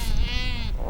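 A sheep with a broken leg, carried in a basket tied to a horse among Kazak herders in Xinjiang, gives one short, wavering bleat, close and clear over rough outdoor noise.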